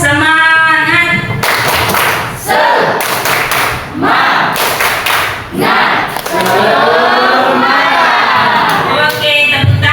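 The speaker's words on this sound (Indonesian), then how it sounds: "Ya, kita masuk yel-yel dulu ya. Ya, tepuk semangat." A school class performs a rhythmic spirit clap together, bursts of unison clapping and thumps alternating with group shouts and chanting, loud and close in a classroom.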